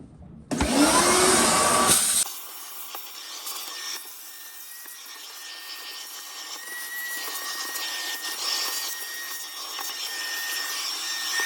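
A vacuum cleaner roars loudly for a couple of seconds while cleaning a refrigerator, then its pitch drops to a steadier whine as it keeps running, with rubbing and scraping noises.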